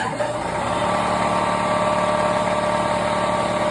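A Kobalt 60-gallon air compressor motor hums and drones steadily at close range, a constant mechanical whir with a faint rattling undertone and no pauses.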